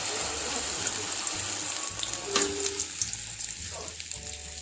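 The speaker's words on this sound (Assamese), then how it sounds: "এতিয়া এইখিনি মই তেলত ঢালি দিছোঁ," An egg and soybean mixture frying in hot oil gives a continuous sizzling hiss with occasional pops and a brief watery gush midway, fairly quiet and close, with no talking.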